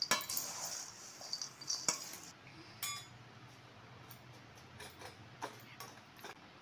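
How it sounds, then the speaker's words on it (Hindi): A spoon clinks lightly against a bowl while a spice mixture is stirred into poha namkeen, with sparse, faint metallic taps and scrapes scattered through the stretch. "थोड़ा में ये जो हमारा मिश्रण है उसको डाल लूँगी और इसको अच्छे से मिक्स कर लूँगी"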